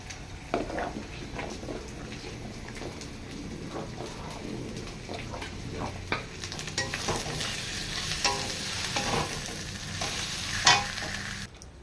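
Khichuri with spices and garam masala is stirred and fried in a pan, giving a soft continuous sizzle with scraping spoon strokes and occasional louder clatters, close up and with no talk.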